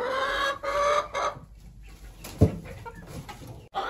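Chickens and young chicks cluck inside a backyard chicken coop, a steady close chorus of clucks and soft calls with one sharper squawk partway through.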